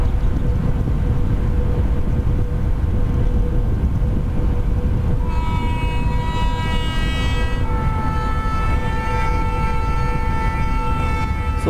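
A train with ICF coaches rolls along in the MSTS simulator game, a loud continuous rumble with a tonal engine whine that rises partway through.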